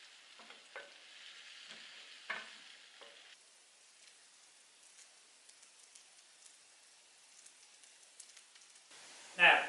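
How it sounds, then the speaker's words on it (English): Baby leeks fry in a pan with a soft, steady sizzle, joined by occasional clinks and stirring, before turkey livers go in with a sudden loud hiss at the end. "These leeks didn't really amount to nothing, so I'm frying them up. I'm going to put the turkey livers in right now."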